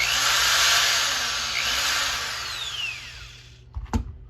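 A handheld corded power drill whines loudly as it bores in a garage during furnace duct cleaning setup, its pitch sliding as the motor slows, then cutting off with a few clunks of handling.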